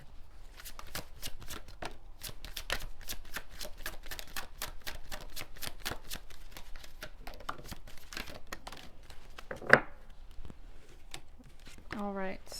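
A deck of Law of Attraction oracle cards riffled and shuffled in a steady run of quick papery flutters, fairly close and moderately loud, with a brief sharper snap near the end.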